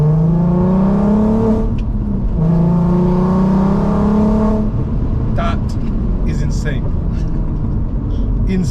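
A Volkswagen Golf R32 Mark 5 engine revs hard twice, each rev a rising, throaty howl, then drops back to a rumbling idle with a few sharp crackles, close and loud.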